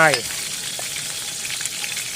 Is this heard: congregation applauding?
no